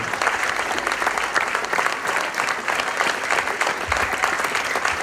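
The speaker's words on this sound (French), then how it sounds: "Donc applaudissez toute cette équipe pédagogique" Loud, close applause from a concert audience, many hands clapping in a dense, continuous patter that holds strong throughout.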